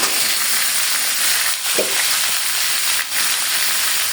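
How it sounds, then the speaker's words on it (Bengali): Sweet pumpkin frying in a pan, with a loud, constant hissing sizzle throughout and two brief dips where it is stirred. "এদিকে আমি তো মিষ্টি কুমড়া বাদ দিই বসা দিচ্ছি"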